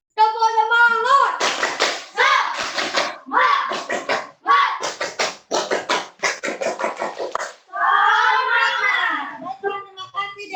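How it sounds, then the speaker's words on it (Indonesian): Elementary classroom of children doing the tepuk semangat clapping chant, bursts of rhythmic group clapping in short patterned sets alternating with children's chanted voices, close and lively. "coba Dede, silakan pimpin temannya untuk tepuk semangat"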